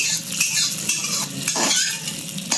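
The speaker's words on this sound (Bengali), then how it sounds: "দেখুন লাল লাল করে ব্রাউন কালারের মতন করে ভেজে নেবেন" Spices frying to a reddish brown in a pan for a home-style vegetarian dish hiss and sizzle while a metal utensil stirs and clinks against the pan several times; close and moderately loud, with no voices.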